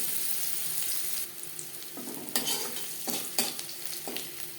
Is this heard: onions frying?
yes